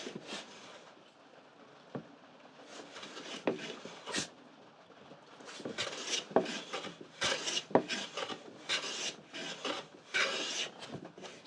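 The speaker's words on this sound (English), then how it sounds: "going to go for a real heavy cut that you probably would never do with a plane like this" A hand plane driven through wood for a very heavy cut, producing loud, irregular rasping strokes that grow stronger and more frequent in the second half, with sharp scraping bursts between quieter passes.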